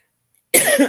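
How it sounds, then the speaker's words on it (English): A single close, harsh cough bursts out after half a second of silence, loud and raspy with a rough throaty tail. "I was getting ready to choke or cough."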